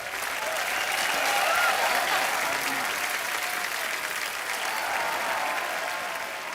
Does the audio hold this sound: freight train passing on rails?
no